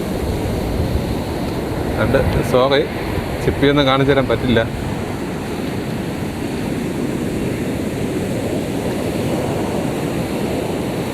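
Strong sea waves at Colachal beach roll in as a loud, continuous surf roar close by, with someone talking briefly over the crashing water near the start.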